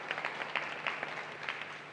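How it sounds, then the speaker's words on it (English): Applause from the audience at a company's annual general meeting, quiet and steady with dense overlapping claps throughout the short stretch. "Can we give her a round of applause?"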